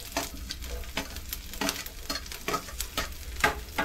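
Garlic, chillies and vegetables sizzle quietly in a pan for veg manchurian gravy while a spoon stirs and scrapes in a steady rhythm of soft strokes, close and fairly faint, with no voices.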